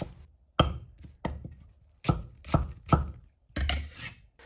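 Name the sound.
chopping half an onion into small pieces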